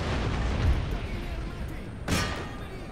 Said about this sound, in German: Ihr hört auf, meine Stadt zu bombardieren